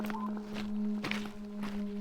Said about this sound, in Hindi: रामपाल और रोहित बिना कदमों की आहट किए वहां से भागने लगते हैं